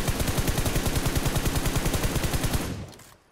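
Rapid automatic gunfire in BGMI, a fast even burst of loud close shots for about two and a half seconds before cutting off into a fading tail.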